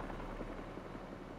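Steady low, pulsing whir of helicopter rotor blades in the video game Spider-Man 2, continuous and fairly loud with a rhythmic throb throughout.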